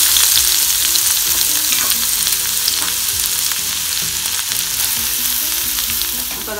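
Chopped onion fries in ghee in a pan for Malabar ghee rice, giving a loud, dense, continuous crackling sizzle close up, broken by light stirring scrapes, with no voices.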